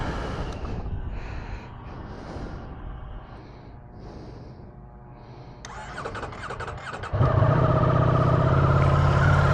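A 2024 Ducati Streetfighter V4 motorcycle cranks after a quieter stretch with some chirps, then its engine catches and settles into a loud, steady idle close by, with no talking.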